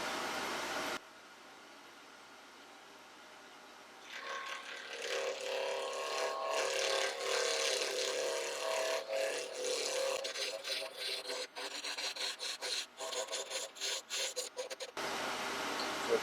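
A wood lathe spins a stabilized chestnut burl pen blank at around 2000 RPM, a steady whirring rasp as the tool cuts, with scraping bursts and rapid chattering ticks toward the end.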